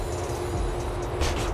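A train running in a Grand Theft Auto mod gives a brief, low, steady rumble with faint rail hiss, heard alone and at moderate volume.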